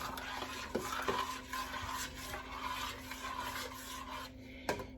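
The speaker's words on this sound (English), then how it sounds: "And I'm going to get that stirred around." A spoon stirs sugar into a pot of homemade chili, making a continuous close scraping and swishing with small clinks against the pot, no voices.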